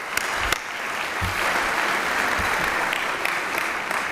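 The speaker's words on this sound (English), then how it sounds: "give yourselves a round of applause" A breakfast fundraiser crowd applauds itself, a dense, even wash of many hands clapping at moderate distance, steady for a few seconds with a few sharper claps standing out.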